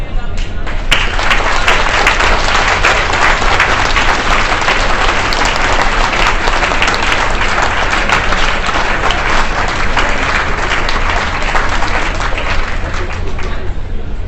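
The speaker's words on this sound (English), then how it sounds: "so we can give you a round of applause" A banquet audience at the IAGLR 2017 conference gives a long, loud, sustained round of applause for the meeting volunteers, with dense clapping that fills the room from start to finish.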